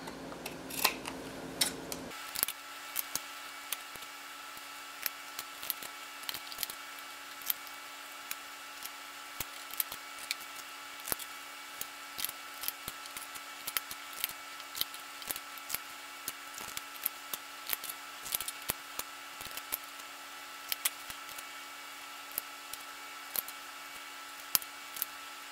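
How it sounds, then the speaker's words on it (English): Repeated sharp snips of scissors cutting through fabric, steady and close, with a constant background hum and no talking. "I'm just going to grab a pair of scissors"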